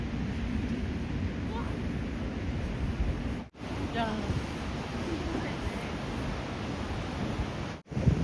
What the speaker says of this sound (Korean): 전망대 안쪽으로 들어갈수록 파도 소리가 점점 더 크게 들리는 것 같습니다.